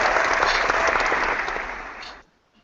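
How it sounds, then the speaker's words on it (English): A canned burst of applause, loud and dense, claps on for about two seconds and then cuts off abruptly into near silence. "Thank you for that random fake clap that interrupted me mid-sentence"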